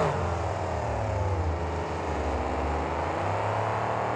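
Monster trucks Cottonmouth and Loud Pedal launch side by side in a 2002 Indianapolis race, their big engines roaring in a steady, loud, dense drone that holds throughout.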